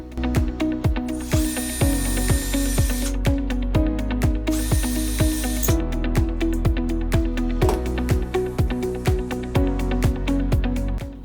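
A power drill boring two holes for the jack screws of a connector on an Atari 800XL computer, heard as steady close whirring in bursts with pulsing clicks and brief pauses, with no talk.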